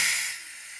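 A coolant vacuum tool on a 2010 Jeep Grand Cherokee cooling system gives a short, close, bright hiss under negative pressure, strongest at the start and easing off within a second.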